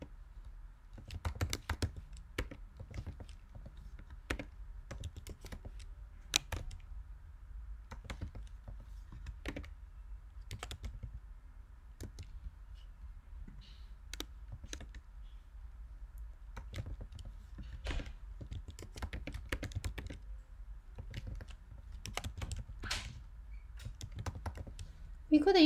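Computer keyboard being typed on while writing code, sparse close key clicks and taps in irregular bursts over a quiet background, with faint low murmuring of a voice at times.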